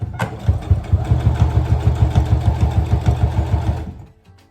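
A sewing machine runs under foot-pedal control with the presser foot lowered, stitching fabric in a steady, loud, fast rhythmic chatter for about four seconds before stopping.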